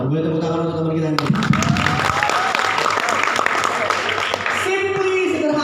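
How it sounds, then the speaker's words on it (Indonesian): An audience applauds a student in a classroom setting, a dense burst of clapping rising after a spoken lead-in and continuing steadily under a voice. "Boleh tepuk tangan untuk teman kita ini."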